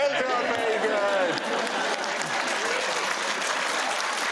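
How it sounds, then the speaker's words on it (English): Studio audience applause on a British comedy panel show, a dense continuous clatter of clapping that holds steady, with a faint voice briefly audible at the start. "Can I stop that round of applause?"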